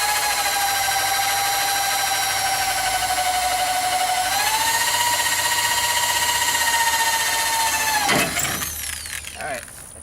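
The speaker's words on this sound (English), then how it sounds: "since it's aluminum, the bit will cut into it real quick and start shooting out aluminum pieces real fast" Power drill with its bit cutting through aluminum, a loud, close, steady high whine that shifts pitch partway through, then breaks up into rough grinding and scraping as the bit pierces the metal.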